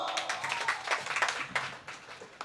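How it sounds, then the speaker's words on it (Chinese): A small audience at a live music performance at Tiehua Village claps quietly, a faint, scattered patter of hands that thins out toward the end. "可以给自己一个掌声好不好？"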